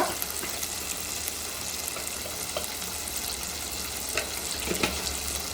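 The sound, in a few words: frying with turmeric and chili powder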